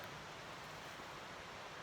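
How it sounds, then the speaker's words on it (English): Tye River flowing beside a campsite in the mountains, a steady broadband rush of moving water with no breaks, moderately distant and even in level, no voices present. "I camped next to the Tye River last night. That's what you hear over there."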